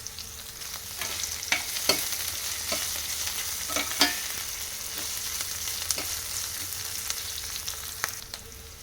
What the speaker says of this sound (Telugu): ఒక 2 పచ్చిమిర్చి ముక్కలు ఫ్రై చేసుకోవాలి